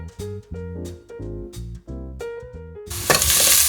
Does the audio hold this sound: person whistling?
no